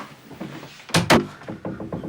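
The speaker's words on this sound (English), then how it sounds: "So leave him here and shut the door." A door is pushed shut with two quick solid thuds close by, followed by faint softer knocks and rattles.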